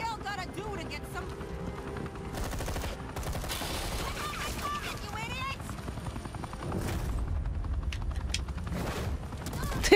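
Gunfire and mechanical noise from the video game Batman: The Enemy Within come in bursts, with a deep rumbling drone and sharp popping shots. Voices talk over much of it.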